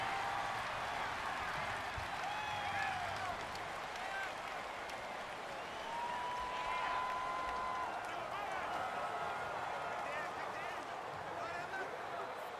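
Stadium crowd roaring throughout an NFL game between the Carolina Panthers and Jacksonville Jaguars, a loud steady wash of cheering and noise with whistles and shouts rising over it, commentary voices running underneath.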